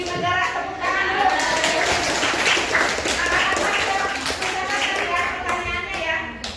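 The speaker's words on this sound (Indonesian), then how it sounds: "Tepuk tangan dulu." Junior high school students at SMPN 1 Pancalang clap together during an anti-corruption education session, a dense patter of hands mixed with children's chatter and voices close by.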